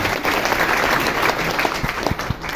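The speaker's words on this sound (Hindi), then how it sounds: "एक बार जोरदार तालियां" An audience at a business development training event gives a loud, sustained round of applause, dense clapping holding steady throughout with no voice over it.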